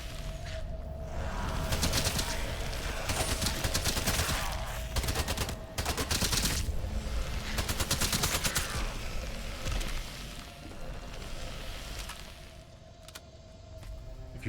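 Rapid bursts of SMG gunfire from the video game Atomfall, loud and close, fired in several sustained volleys with brief gaps, thinning out toward the end with no talking.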